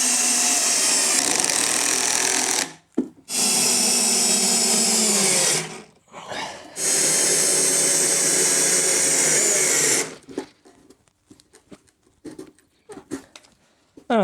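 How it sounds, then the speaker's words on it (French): A power screwdriver or drill drives a screw to fix a BMW E46 interior part onto a driving simulator rig, running in loud sustained bursts with brief pauses, followed by quieter scattered handling clicks and knocks. "Du coup je vais la visser directement dans le simu."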